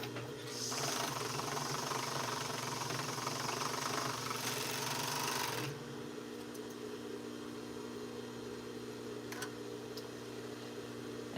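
A sewing machine stitches the shoulder seam of a duster made from Simplicity pattern 8059, running in one steady whirring burst of about five seconds before stopping, leaving a faint motor hum.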